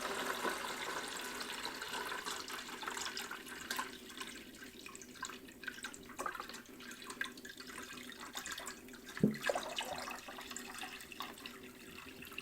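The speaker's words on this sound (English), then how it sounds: "Pour into the tap water container" Tap water pours steadily into the container of a countertop reverse osmosis filter, a continuous splashing hiss with small gurgles and one brief clunk partway through.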